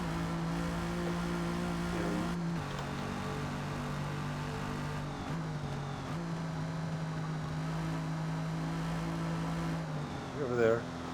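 A racing game car engine held at almost full throttle while going downhill, droning at a steady high pitch with a brief dip and shifts in tone partway through, as someone talks over it.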